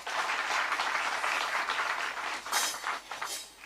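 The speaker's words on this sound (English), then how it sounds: "Can we give him an applause?" Sustained applause from a graduation audience for the president's economic advisor at a university ceremony, dense and steady clapping that swells briefly near the end.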